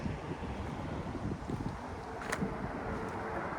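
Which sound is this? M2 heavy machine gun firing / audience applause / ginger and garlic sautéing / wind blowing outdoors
wind blowing outdoors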